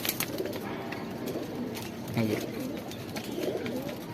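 A pigeon coos softly a few times amid a steady background hum, with some faint chatter in the surroundings.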